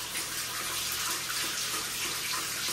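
Food scrubbed with salt under a running tap, a steady hiss of water pouring close to the microphone without pause.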